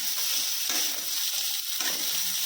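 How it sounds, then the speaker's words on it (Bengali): Potatoes sizzle steadily in hot oil in a pan, a continuous crackling hiss with occasional scraping stirs, close by. "তার জন্য এখন আলু ভাজা করে নিচ্ছি"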